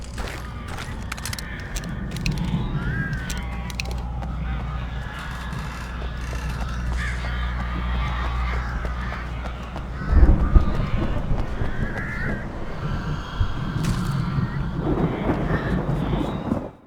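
Crows caw repeatedly in the Alan Wake video game over a heavy, steady low rumble like thunder, with a louder boom near the middle.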